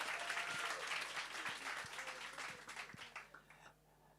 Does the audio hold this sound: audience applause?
yes